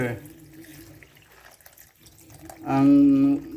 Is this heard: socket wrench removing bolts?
no